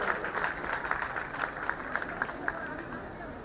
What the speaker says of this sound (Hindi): बहुत जोरदार ताली बजा रहे इनके लिए